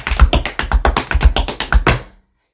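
Tap shoes strike a wooden tap board in a paradiddle pattern, about a dozen crisp close clicks and thuds in an even quick rhythm, then the sound stops.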